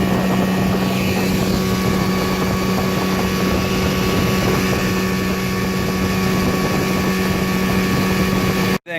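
An old Johnson outboard motor, back running after sitting for seven years, drives a fishing boat with a loud, steady droning whine mixed with wind buffeting, continuous until it cuts off abruptly at the very end.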